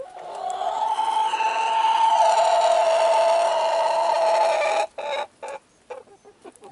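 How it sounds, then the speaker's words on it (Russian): A rooster gives a long, drawn-out, strained call of surrender after losing a fight, lasting several seconds, close and loud, followed by a few short broken sounds. "Вот такой продолжительный звук, который выдают петухи"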